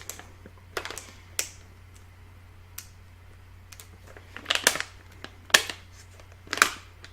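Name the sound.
opening a resealable lid on a candy package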